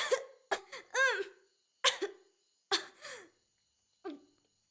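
A person coughs in a series of short, separate bursts, some harsh and some with a voiced, strained edge, spaced irregularly and heard close up in an otherwise quiet room.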